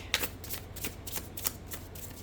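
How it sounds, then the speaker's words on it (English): Oracle cards being shuffled by hand, a quick series of soft riffling flutters and taps in short bursts, close and fairly quiet, with no voices. "Let's get a couple cards for Jane Doe, 1983."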